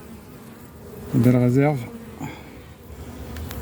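Honeybees hum around an open beehive during a hive inspection, a constant close buzz that keeps going while someone speaks briefly over it in French.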